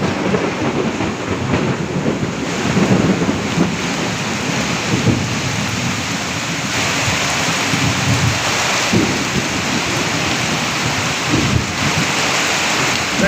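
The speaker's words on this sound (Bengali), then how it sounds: "বৃষ্টি প্রচন্ড বৃষ্টি হইতেছে" Heavy rain pours steadily with thunder rumbling through it in a flooded area where water covers everything. The downpour is dense and close, and the low rolling thunder swells and fades across the whole stretch with no voices.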